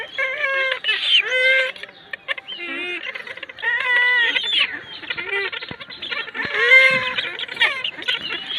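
Purple swamphens (kalim birds) on a farm give repeated loud, honking clucks and nasal calls in quick bursts, close by, with several birds overlapping and brief pauses between calls.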